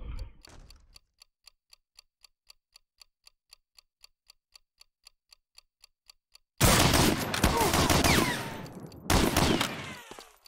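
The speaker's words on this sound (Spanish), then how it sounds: "Bomba plantada." A planted bomb ticks in the video game Medal of Honor: Allied Assault, with evenly spaced sharp beeps repeating alone in near silence for several seconds, then loud bursts of rapid gunfire break in.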